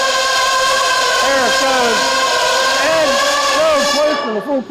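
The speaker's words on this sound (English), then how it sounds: "Here we go, Ed Fincham, 5-engine tractor" An RC five-engine pulling tractor screams through a high, layered whine at a spring nationals pull. Its pitch climbs and wavers as the engines rev under load, loud and close, and the run cuts off abruptly at the end.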